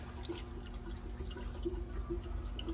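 Engine oil trickles and drips from the drain plug of a GM Corvette during an oil change, a faint, steady liquid pour with soft irregular drips in a quiet shop.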